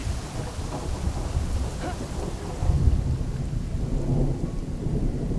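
A thunderstorm rages in the storm-chasing video game Funnel Runners, with steady heavy rain hissing throughout and low thunder rolling and swelling midway, all fairly close and without voices.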